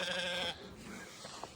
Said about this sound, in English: Now, we need sheep.